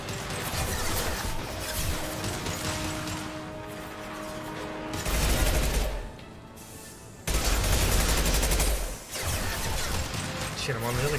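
Heavy gunfire in the Mass Effect 2 Legendary Edition video game on Insanity difficulty: sustained loud bursts and crashing impacts that cut out briefly and then resume, under a speaking voice.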